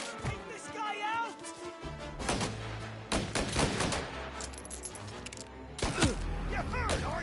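Shotgun blasts in a video game ring out as several sharp, loud bangs in quick bursts, mixed with shouted voices and game chatter.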